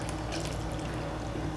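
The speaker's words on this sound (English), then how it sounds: "The best way to know is pour water." Water is poured over packaged Korean rice cakes for tteokbokki, giving a steady, close splashing pour that runs continuously through the whole short moment.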